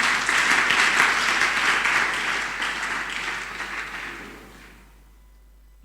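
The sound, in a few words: audience applause at a closing ceremony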